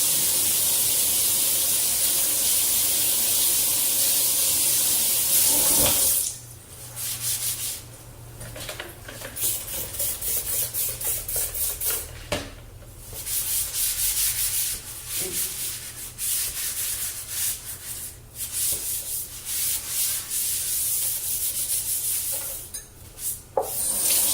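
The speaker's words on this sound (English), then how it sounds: "clean out the sink" A kitchen sink is scrubbed clean: a loud, continuous rubbing and hissing scour at first, then uneven scrubbing strokes with brief pauses and scraping, close and steady throughout.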